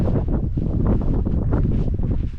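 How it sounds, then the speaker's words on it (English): A steady breeze buffets the microphone on an open beach at Shellness on Sheppey, beside a wild camp tent. The low, rumbling gusts continue without a break, and there is no talking. "I'll just show you how my tent's flapping about"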